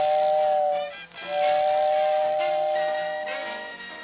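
A Lionel toy train's steam whistle sounds two sustained, steady-pitched blasts with a short break between them, over a hissing rush of steam, fairly clear and alone.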